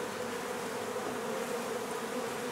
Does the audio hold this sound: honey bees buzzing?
yes